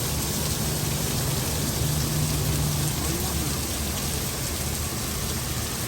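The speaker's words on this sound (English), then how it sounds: "Well, second hailstorm." Hail pounding down during a storm, a dense, unbroken roar of pellets striking surfaces at steady intensity, loud and close throughout, with a faint low hum underneath and no talking.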